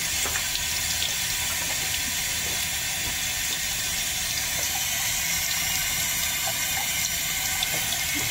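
Tap water runs steadily while a newborn baby is rinsed, a continuous close splashing flow at a fairly even level with no talking.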